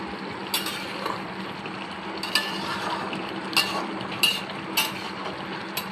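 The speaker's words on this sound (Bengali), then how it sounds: "ট্যাংরা মাছের তরকারিতে সেম একটা টমেটো 4 টুকরো করে কেটে দিয়ে আর ধনিয়া পাতা দিয়ে ভালো করে নেড়ে চেড়ে নেব।" Tangra fish curry with cut tomato and coriander leaves stirred in a pan, a continuous close hiss of simmering with repeated scraping strokes of a spoon against the pan.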